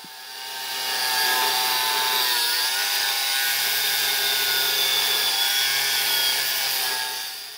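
An angle grinder cuts along a scribed line: a loud, steady, high whining screech rises after a brief start and holds for several seconds before easing off.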